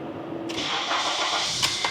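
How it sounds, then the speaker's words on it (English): A 2008 Acura TSX engine cranks and fires up after a jumpstart, a sudden loud start settling into a steady close-up running drone with a couple of brief clicks near the end. "Do we have engine starting sequences?"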